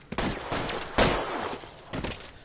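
Gunfire in the crime video game L.A. Noire during a robbery shootout, several loud bursts of shots in quick succession, close and sharp with a heavy blast in the middle.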